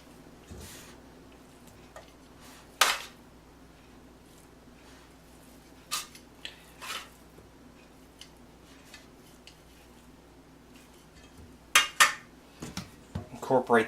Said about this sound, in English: I'm going to go ahead and add a nice helping of my barbecue beef.